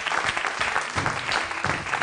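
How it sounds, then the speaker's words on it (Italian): A studio audience on a cooking show claps briefly after news of an upcoming baby, quick uneven clapping, fairly soft and over in about two seconds. "Che bello, un applauso."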